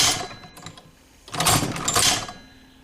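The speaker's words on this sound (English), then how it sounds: "now you just let the machine set your stitch length, and you see I'm going down with authority" A sewing machine stitches a leather sheath for a fillet knife in two short, rapid bursts separated by a brief pause, close and moderately loud.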